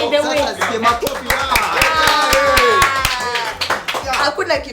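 Live studio audience breaks into applause during a talk show, a run of sharp claps layered under a man's steady speech that keeps going throughout.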